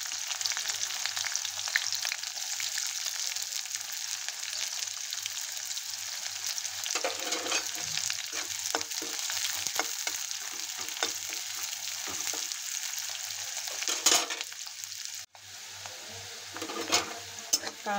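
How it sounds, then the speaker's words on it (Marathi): Onion sautés in a pan for soya bean keema, a steady sizzle and crackle with occasional scraping and stirring sounds and a brief clatter near the end, no talking heard. "कांदा चांगला लाल होईपर्यंत परतून घ्यायचा।"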